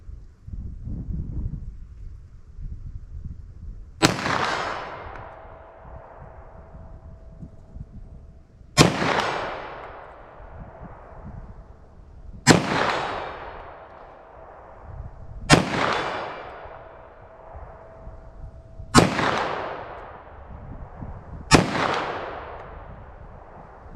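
Six sharp .40 S&W pistol shots from Sellier & Bellot XRG Defense ammunition, fired outdoors on ice, each crack loud and close with a decaying echo tail, spaced a few seconds apart over faint wind.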